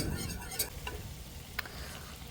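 Butter browning in a pan gives off a faint, steady sizzle and crackle, with a couple of soft clinks or stirring taps, heard alone and at low level.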